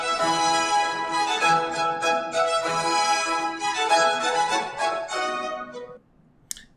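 Ritornello from Vivaldi's Spring violin concerto in a recording, bright string ensemble playing a lively, sustained melodic phrase that fades out near the end, followed by a faint click.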